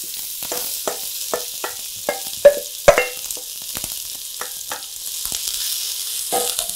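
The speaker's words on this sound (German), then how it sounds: "da schwitze ich jetzt alle Zwiebeln an" Onions sweating in neutral vegetable fat in a pot for beef goulash: a soft, close sizzle punctuated by sharp stirring clinks and knocks, with the frying hiss swelling slightly toward the end and no voices.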